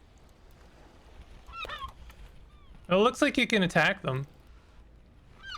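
A bird squawking in the climbing game Peaks of Yore: a few harsh, honking, goose-like calls, then a loud run of rapid squawks in the middle, with someone talking at the start.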